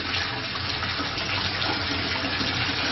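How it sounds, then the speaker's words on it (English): Steady rushing water from a tap or sprayer rinsing a dog in a bath, close and continuous with no pauses or talk. "We're just rinsing you off."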